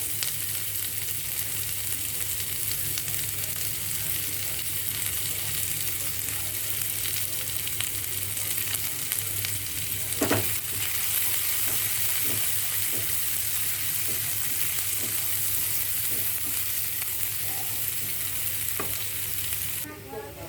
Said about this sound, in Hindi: अब हम इसके अंदर डाल देंगे प्याज। प्याज को हमें गोल्डन ब्राउन करने तक पकाना है।